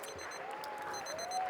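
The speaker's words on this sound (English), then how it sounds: "Round of applause." A crowd at a polo match in The Villages applauds after a goal, giving a brief, steady patter of clapping heard from some distance, with a faint tone sweeping underneath.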